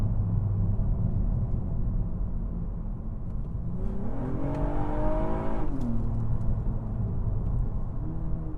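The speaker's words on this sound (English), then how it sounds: "As you brake, you hear it dropping gears." Engine of a 2019 Acura TLX A-Spec V6 sedan in sport mode with its automatic transmission dropping gears under braking, a steady close rumble with audible rev steps sweeping up and down mid-clip.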